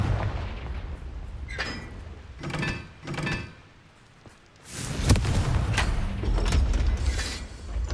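Confringo blasting spell explosions in the Hogwarts Legacy video game, heard as several sharp booming bursts, with a gap of near silence midway and then a louder stretch of sustained rumbling blasts.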